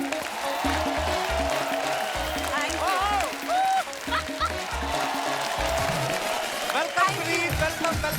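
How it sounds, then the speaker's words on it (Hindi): A television studio audience applauds to welcome a guest on a comedy talk show, steady dense clapping running throughout while a host talks over it. "जोरदार तालियां होनी चाहिए इनके लिए"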